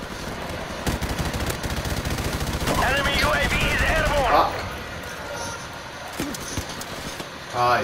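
Gunfire from the Call of Duty video game crackles through most of the stretch, several loud bursts and shots in quick succession, with players talking over it.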